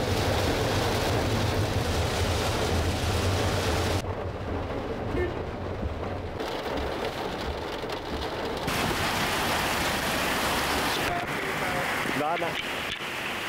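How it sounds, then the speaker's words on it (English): Steady rain falls outdoors on an arrival in Hanoi, Vietnam, a dense hiss spread across the whole span with a low rumble underneath, broken by a brief quieter stretch partway through. "In the rain."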